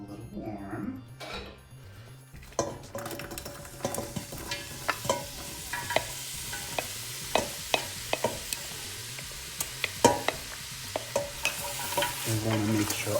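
Chopped onions and celery sauté in oil in a soup pot for chicken soup, with a steady sizzle broken by frequent sharp scrapes and knocks of a spoon being stirred, close and clear, with a voice at times.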